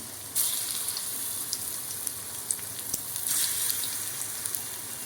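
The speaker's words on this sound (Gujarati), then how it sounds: "તો આપણું તેલ ગરમ થઈ ગયું છે હવે આપણે વડા ઉતારશું" Vada dumplings of ground urad dal fry in hot oil in a pan, giving a steady, fairly quiet hiss with a few faint crackles and no talk.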